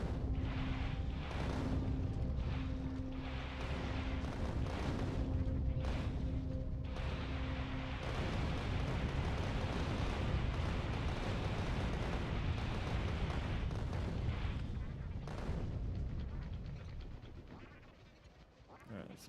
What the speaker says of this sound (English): It's cool that the rockets track them.